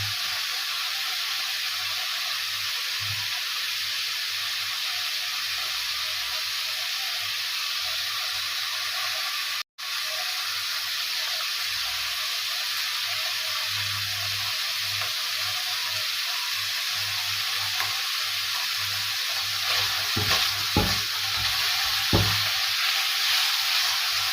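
Vegetables sautéing in hot oil for a miswa dish, a steady loud sizzle and frying hiss that runs throughout, with a few stirring clatters toward the end.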